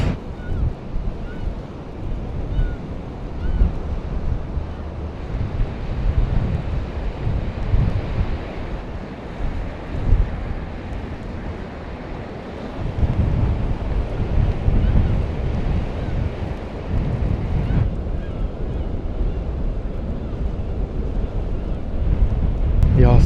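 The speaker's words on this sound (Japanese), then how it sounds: "うわ、すごい風。" Strong wind buffets the microphone on the exposed coast at Honshu's northernmost point, facing the Tsugaru Strait, with surf rumbling below; loud, steady gusting roar throughout with brief lulls.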